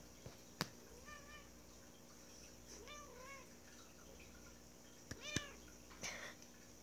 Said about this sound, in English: Let's record my cat this morning.